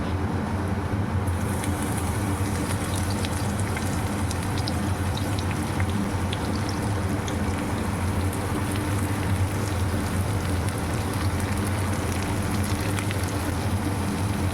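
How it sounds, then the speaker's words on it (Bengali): Crushed garlic and chopped onion fry in cumin-seed tempering, giving a steady, dense, close crackling sizzle like rain that runs unbroken throughout with no voices. "ফোড়নের জিরে ভালোভাবে ভেজে নিয়ে প্রথমে থেতো করা রসুন দেব তারপর দেব পেঁয়াজ কুচি"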